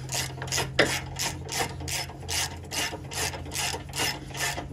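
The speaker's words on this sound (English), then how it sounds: "Get this upper bolt all the way tight." Steady, rhythmic rasping clicks of a hand ratchet being cranked back and forth, about two strokes per second, close and alone, tightening a front bumper bolt on a Ford F-250.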